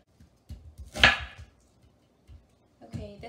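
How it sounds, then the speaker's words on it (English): Knife chopping onions on a kitchen board while making tuna salad, a handful of soft, close taps in a loose rhythm with one louder scrape-like cut, and a brief voice near the end. "this is a good trick for cutting onions"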